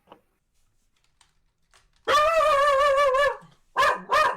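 After near silence, an excited pet dog gives a long, loud, ringing yelp-bark, then two shorter sharp barks in quick succession, close to the microphone.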